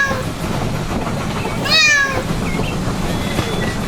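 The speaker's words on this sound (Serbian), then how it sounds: "Mačka." A cat gives one short, clear meow midway, heard over a steady rumbling background that sounds like a moving train.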